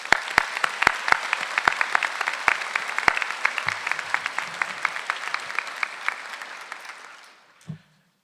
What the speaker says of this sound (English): please giving all our supporters a big round of applause